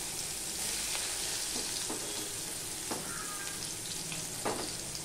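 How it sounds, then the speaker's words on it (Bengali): Chopped onion frying in hot oil after black cumin seeds for a pomfret fish recipe, a continuous soft crackling sizzle close by with occasional light stirring clicks, no talking. "সেই পেঁয়াজটা দিয়ে দিলাম"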